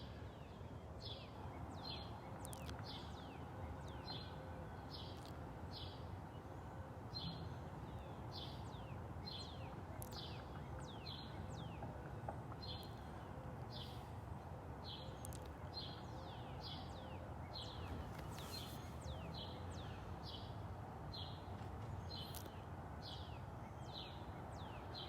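Birds sing steadily outdoors on a morning in North Naples, Florida, a repeating chirped phrase over a soft, constant background hiss, with no voices.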